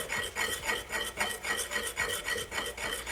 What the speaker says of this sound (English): Now mix it thoroughly so that there's no gray left over